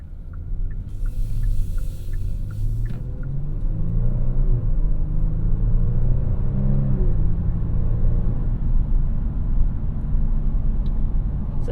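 A 2022 Kia Stinger GT2 with a 3.3-liter twin-turbo V6 driving in normal mode, a steady low engine rumble with road noise, loud and continuous from inside the cabin, with no talking.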